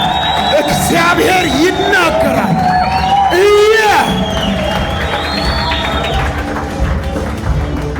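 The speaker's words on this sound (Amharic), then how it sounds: "ሁሉም ሰው በእግሮቹ ቆሞ ለጌታ እልልታ ይገባዋልና" A standing church congregation ululates and cheers in praise during a worship service, with high, trilling ululations over loud crowd shouts and a voice speaking through the din.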